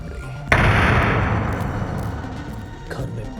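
A gunpowder blast inside a house blows out a wall, striking as one sudden loud boom followed by a long rumbling roar of debris that slowly fades.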